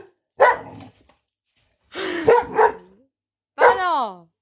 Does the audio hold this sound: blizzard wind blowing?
no